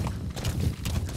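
The horse D-Horse clip-clops in Metal Gear Solid 5, with several quick, close hoof strikes in an uneven galloping rhythm over a short stretch.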